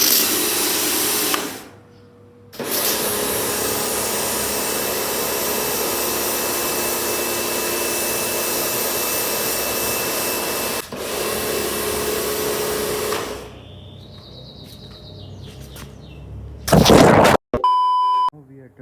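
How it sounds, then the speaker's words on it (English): A muddy bike being rinsed with water: a steady, loud spraying hiss runs almost throughout with a couple of brief breaks, then a few electronic beeps near the end. "I believe we have to rinse it thoroughly and then we could add the detergent"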